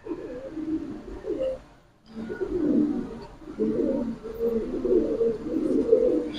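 Pigeons coo in low, rolling phrases that repeat almost without a break, close and fairly loud, with one short gap partway through.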